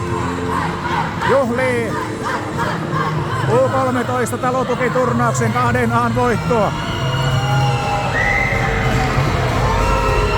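Youth ice hockey players of the Pips team from Pieksämäki and their supporters celebrate a tournament final win in Oulu, with loud shouting and cheering voices throughout, whistle-like cries and a commentator speaking over the crowd.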